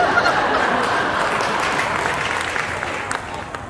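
Audience applause after a joke at a Hindi comedy poetry show in Bhopal, a loud, full burst of clapping that slowly tapers, with scattered laughter and a few voices mixed in.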